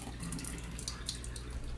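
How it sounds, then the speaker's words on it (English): Running tap water pours and splashes over rice being rinsed, a brief close wash with a few light rattles and splashes. "So you wanna rinse the rice off real good."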